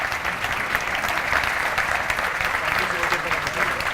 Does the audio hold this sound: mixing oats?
no